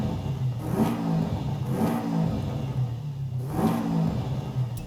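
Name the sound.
Subaru BRZ engine revving in Forza Horizon 5 video game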